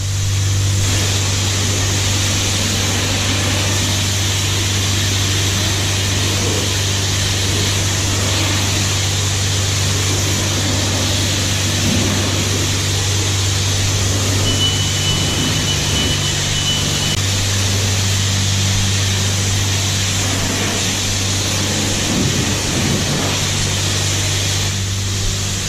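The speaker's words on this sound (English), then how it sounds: "I like to put on a wax after, high pressure wax and all that" High-pressure wax sprays in a touchless car wash, a loud, steady hiss over a constant machine hum, continuing throughout with no talk.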